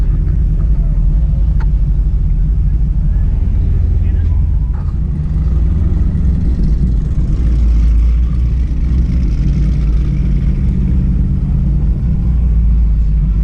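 A car pulls out of an outdoor car meet with a steady, loud low engine rumble and road noise throughout, occasionally building under revs, with people talking over it.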